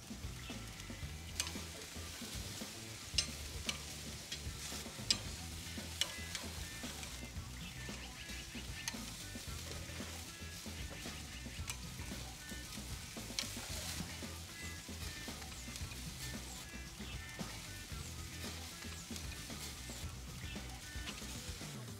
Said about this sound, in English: Once the burgers are browned on the bottoms, turn them over with tongs or a spatula.